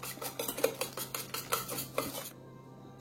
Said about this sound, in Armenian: ավելացնում եմ 2 ձու։ Լավ հարում ենք